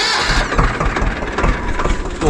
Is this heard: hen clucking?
no